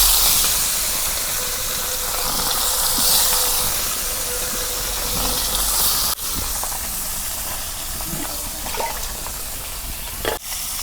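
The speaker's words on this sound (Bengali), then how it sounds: "এখন আমি মাছ ভাইজা নেব।" Small river puti fish fry in hot oil with a constant loud hiss and sizzle. A couple of sharp knocks cut through the steady crackle partway along.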